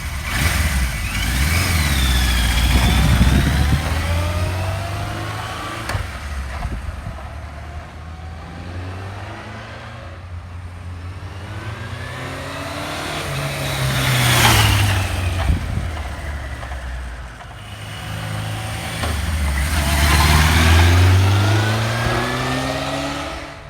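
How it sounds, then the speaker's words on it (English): A 1977 Kawasaki KZ1000A motorcycle engine runs steadily at close range, swelling into revs around the middle and again near the end, with no talking over it. "The motor sounds nice. Goes into gear really nice."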